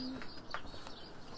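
Racing pigeons coo faintly in a soft murmur under steady background noise, with one brief clearer call partway through.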